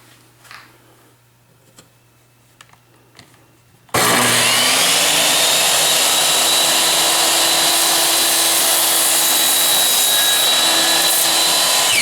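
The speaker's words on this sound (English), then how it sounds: "I've got my miter saw all set up and we're going to go ahead and start cutting these slats down here" A miter saw cuts wooden slats for a toboggan, starting abruptly after quiet handling noises and then roaring steadily and loudly through the wood without pause for several seconds.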